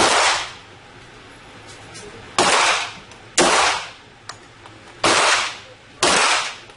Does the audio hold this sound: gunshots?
yes